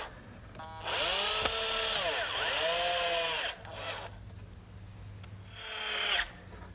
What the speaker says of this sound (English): I want to make sure I take the precaution of pre-drilling so I won't split this nice cedar.